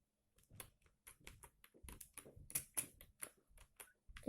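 Rapid, irregular keystrokes on a computer keyboard as a song title is typed, close and clear with short pauses between bursts of clicks.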